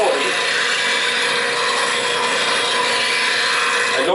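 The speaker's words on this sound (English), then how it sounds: "I grind it at 40 degrees. That's the relief angle." Bench grinder steadily grinding a woodturning bowl gouge at a 40-degree relief angle, a loud continuous abrasive rasp throughout with no pauses.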